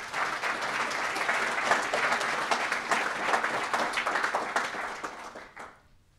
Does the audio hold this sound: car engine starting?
no